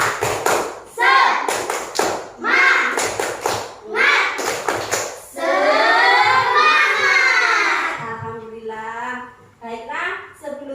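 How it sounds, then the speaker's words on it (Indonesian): Young schoolchildren in an Indonesian classroom chant a rhythmic tepuk semangat, sharp bursts of clapping alternating with loud shouted syllables, followed by a drawn-out sung cheer and a teacher's voice. "ayo kita tepuk semangat dulu ya"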